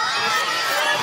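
Children at Cal Blue Camp cheer loudly for a team, a bright dense crowd roar of shouting young voices that holds steady from start to finish.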